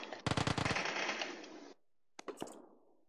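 Rapid automatic gunfire burst from PUBG Casual Mode, a loud close volley of shots that cuts off abruptly, followed by silence and two sharp single cracks with a short tail.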